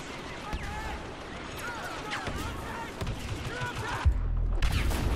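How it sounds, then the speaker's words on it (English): Dense bursts of gunfire and rumbling explosions from Star Wars Battlefront, continuous and loud, with a big low boom near the end; voices talk underneath. "Oh my god, the explosions are amazing."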